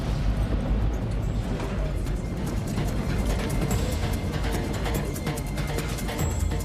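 A sustained loud rumbling roar from an aircraft engine explosion during climb, dense and continuous from start to finish with no clear onset.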